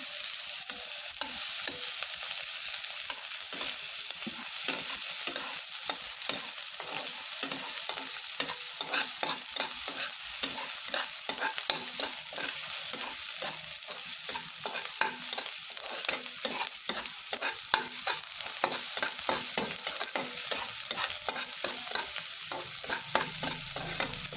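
Chopped garlic and onion frying in hot oil: a dense, loud, continuous sizzle and crackle, with rhythmic stirring strokes scraping through it steadily from start to finish.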